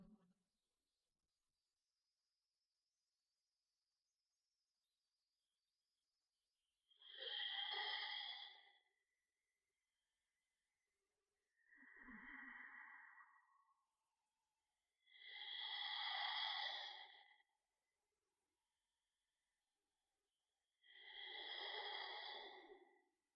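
Audible breathing from a person, four slow, breathy inhales and exhales spaced well apart, faint and airy in an otherwise quiet room.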